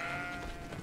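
A goat in the video game GreedFall gives a single short, wavering bleat, clear and close against a quiet game background.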